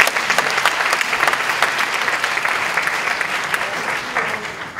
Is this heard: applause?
yes